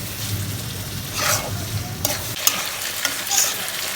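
Small shrimp sautéing in a pan with green chilies: a close, steady sizzle with bursts of spatula stirring and scraping, and a few sharper clicks.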